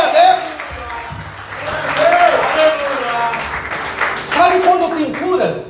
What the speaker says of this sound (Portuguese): Se é para Deus, aplauda mais forte.